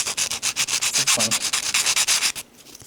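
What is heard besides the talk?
hand sanding with a sanding sponge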